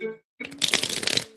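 Playing cards riffle in a quick shuffle, a brief soft tap followed by a dense, crisp burst of flicking card edges lasting under a second, close and fairly loud.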